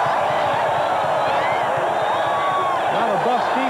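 A packed college football stadium crowd at a 1990 Colorado Buffaloes game, a dense continuous roar of cheering and shouting rising steadily, with a commentator talking over it.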